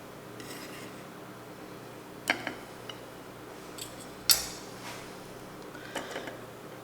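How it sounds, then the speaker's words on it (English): Knife slicing two slices of cheddar cheese into smaller pieces for an omelet, heard as a few soft scrapes and sharp clicks of the blade against a board, close and quiet with no talking. "I'm going to take my 2 slices of cheddar cheese and we're going to cut it into smaller portions"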